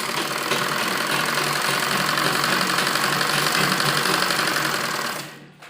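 A sewing machine stitches lining fabric for a palazzo with a fast, even mechanical whir that runs loud and continuous for about five seconds before winding down and stopping.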